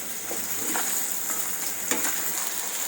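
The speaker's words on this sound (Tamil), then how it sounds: "கத்திரிக்காய் நல்லா இந்த எண்ணெயில் இது மாதிரி வதங்கணும்." Eggplant and potato sautéing in hot oil in a pan, a steady close sizzle with a few soft stirring scrapes running throughout.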